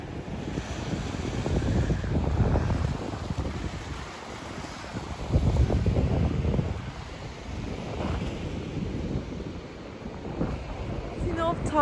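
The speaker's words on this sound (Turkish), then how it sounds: "Dalgalar çok güzel. O rüzgarın hissettirdiği güç" Wind buffets the microphone in gusts while waves roll and wash in the background, loud and continuous along the shore near Sinop, Turkey.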